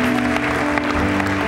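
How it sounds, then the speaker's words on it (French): Brief applause from a group, steady clapping lasting just over a second. "On les applaudit"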